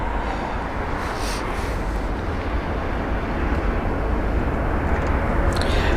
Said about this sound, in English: There is the the Egypt Air aircraft.